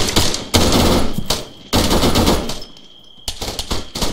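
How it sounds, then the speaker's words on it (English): An HMG Strider fires heavy machine gun rounds in a video game, with loud, rapid bursts that stop briefly and resume in close, rattling volleys. "We're getting crucified by that uh, HMG Strider. It's just picking us off outside of range."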